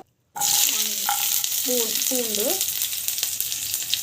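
Garlic, coconut and dried red chillies frying in hot oil, a continuous bright sizzle with a few squeaky stirring scrapes near the start, no voice.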